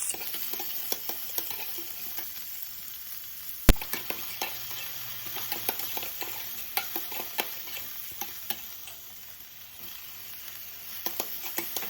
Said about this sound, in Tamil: ஆனியன் சேர்த்து நல்லா சாட்டை பண்ணிக்கோங்க